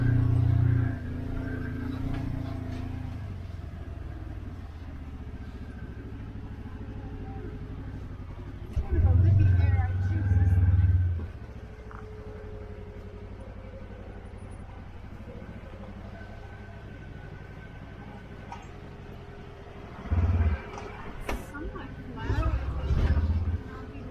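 An off-road vehicle works through a rough spot on the Seven Mile Rim Trail in Moab, Utah, its engine rumbling low with a few louder surges, while people talk over it.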